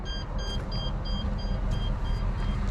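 A device beeps at a steady, regular pace, its high, short tones repeating over a constant low rumble of rain and outdoor background.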